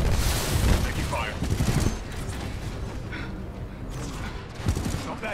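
Gunfire rattles in bursts during a Titanfall 2 battle, repeated shots and a loud boom mixed with game effects, with voices talking over the action.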